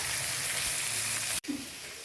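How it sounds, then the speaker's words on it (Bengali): Potatoes frying in a pan for a Bengali chitol fish curry, a steady close sizzle that stops abruptly partway through, then resumes more quietly with faint stirring. "ভেজে নেব আলুগুলোকে"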